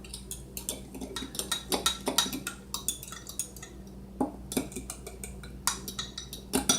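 A spoon stirs sugar into a yeast mixture in a bowl, giving a run of light, irregular clinks and scrapes close by, with no talking.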